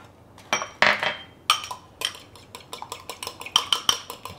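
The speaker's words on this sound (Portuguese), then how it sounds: "Bate o ovo, gente, aí bota uma colherinha de leite dentro" Egg and a spoonful of milk beaten with cutlery for brushing English scones, giving a run of quick, close metallic clinks and scrapes against a bowl in an uneven rhythm.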